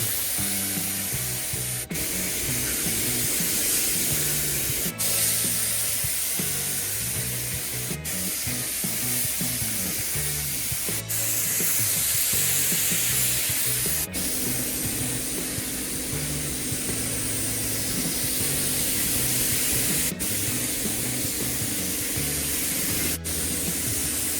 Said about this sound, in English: Notice that spraying the clear coat creates the most fog in the building.